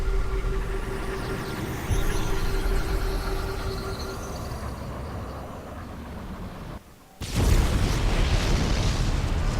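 Nuke in StarCraft lands with a deep, rumbling explosion that cuts out briefly to near silence, then erupts into a loud, broad blast roaring over the end of the battle noise.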